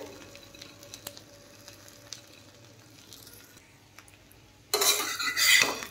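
A fish roe fritter fries quietly in a pan with a few utensil clinks, then is flipped and bursts into a loud, close sizzle over the last second or so.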